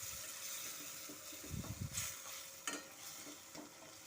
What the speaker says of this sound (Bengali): এখন আমি সমস্ত মশলার সাথে কষে নেব।